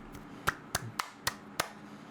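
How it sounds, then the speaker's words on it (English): A woman claps in approval in the background of a courtroom TV show, with five or six sharp, spaced claps at a moderate distance. "That lady is just clapping with approval in the background."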